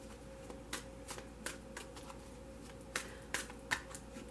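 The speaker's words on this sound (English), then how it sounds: "I'm only going to shuffle for a moment." A deck of tarot cards is shuffled close up in short crisp riffling bursts, roughly a dozen soft flicks at uneven intervals over a quiet background.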